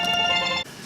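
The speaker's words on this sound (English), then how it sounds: "Okay, that was just a phone call." A phone rings in one sustained, bright electronic tone that cuts off abruptly near the end, loud and close, with no talk over it.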